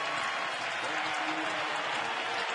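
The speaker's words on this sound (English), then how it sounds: "Schlichting getting some applause as he comes back." Sustained applause from a baseball stadium crowd at an Arizona at Atlanta game, as a player returns to the dugout after being thrown out on a close play; steady broadband clapping fills the whole stretch, moderately distant.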